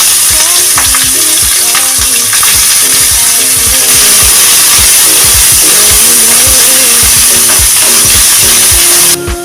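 Steady oil sizzle and crackle of chopped onions sautéing in a pan, with occasional stirring clatter, close and continuous throughout.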